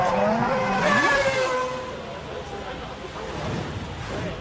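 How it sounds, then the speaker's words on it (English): Formula One car spinning out at the 2008 Australian Grand Prix, with a burst of tire squeal and engine whine that then drops to a lower rumble, while a commentator talks over it. "a hefty spin wiped him out of the race"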